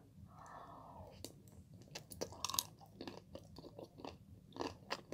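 Someone eats ice cream close to the microphone, with soft wet chewing, small crunches and mouth sounds in quiet bursts, plus a faint breathy whisper of a voice.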